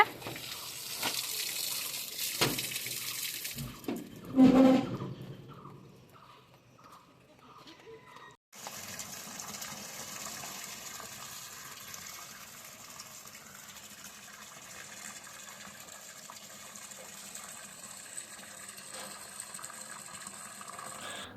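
Taro leaves are washed in the kitchen, first with scattered handling knocks and splashes, then under a steady gush of running tap water that continues evenly to the end.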